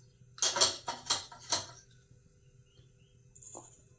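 Mustard and fenugreek seeds drop into hot oil in a pan, giving a quick run of sharp rattling, crackling bursts up close, then a quieter pause and one last faint crackle.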